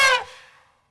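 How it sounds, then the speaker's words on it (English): An elephant lets out a short, bright trumpeting blast that starts loud and quickly tails off, heard alone. "This is an elephant."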